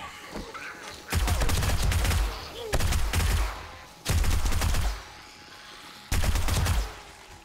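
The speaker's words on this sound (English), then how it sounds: "let's get our junk turret to help us out here" Junk turret in 7 Days to Die firing during a horde night, four loud bursts of rapid automatic gunfire separated by short pauses over a steady ambient background.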